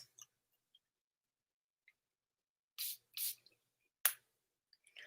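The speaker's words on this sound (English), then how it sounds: "I can't just spray one time." Chanel perfume sprayed onto skin from an atomizer in a quiet room, two quick soft hissing bursts in a row and then a third a moment later, close and faint, with small handling clicks between.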